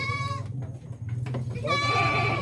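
An Etawa goat suffering from bloat bleats twice, loud and near, with drawn-out nasal cries separated by a brief pause filled with faint rustling and a low steady hum.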